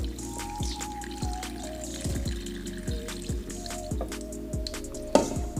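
Rinsed tapioca sago pearls draining slowly, with steady close dripping and trickling water punctuated by soft wet squishes and a few louder splashy taps, no talking.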